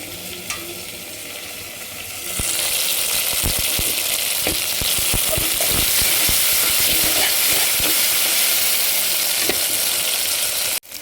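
Tomatoes and onions sauté in a pan for a Tamil mock fish curry made with toor dal; after a quieter start, steady loud sizzling sets in around two seconds, with repeated stirring scrapes of a spoon through the mix.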